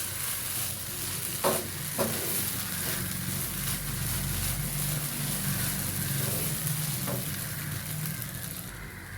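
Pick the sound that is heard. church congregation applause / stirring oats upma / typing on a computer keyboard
stirring oats upma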